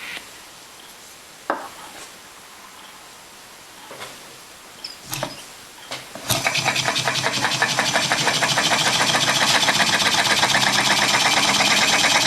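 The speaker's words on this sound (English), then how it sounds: "So this demonstrates the action of what's going on inside of a Stirling engine." Stirling engine in a glass tube demonstration: after a few isolated clicks and taps, it starts up and runs steadily, producing a continuous fast rhythmic chuffing and rattling that stays loud and close.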